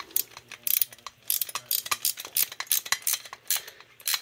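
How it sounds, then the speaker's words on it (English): A wrench ratchets in quick, close clicking bursts while a bolt is tightened on an engine stand, with short pauses between strokes. "So I'm going to get a wrench, tighten this guy up in there"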